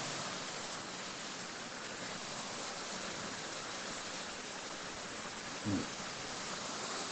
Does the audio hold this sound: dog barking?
no